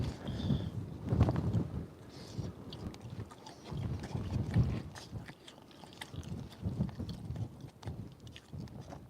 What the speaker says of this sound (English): A nice little wind gust came through.